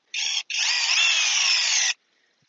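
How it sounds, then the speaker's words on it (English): A 12-volt cordless drill on slow speed whines in two bursts while driving a lag screw into a log, a brief pulse and then a longer steady run of about a second and a half, close and loud. "put it down into a slow speed so we can drive this into the log"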